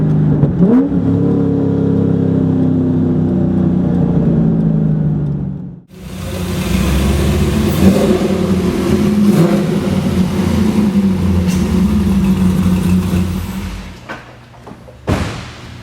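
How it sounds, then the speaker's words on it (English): A Corvette Z06's deep V8 idles with a low rumble, cuts briefly, then roars back and revs loudly before settling, with a short burst at the end. "that's definitive, loud, rumbling V8"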